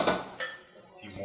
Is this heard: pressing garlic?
yes